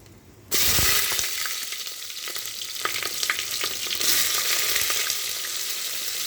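Mixed vegetables (pointed gourd, radish, long beans, eggplant, potato, green chilies) hit hot oil with a sudden loud hiss, then keep sizzling steadily with scattered scraping stirs of a spatula, close and unbroken, no voices.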